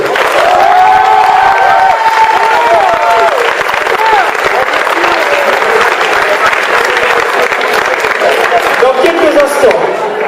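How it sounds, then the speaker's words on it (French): Loud audience applause with cheering and whoops at a gala, continuous dense clapping throughout, with voices calling out amid the crowd. "j'aimerais, s'il vous plaît, que tout le monde l'applaudisse très fort"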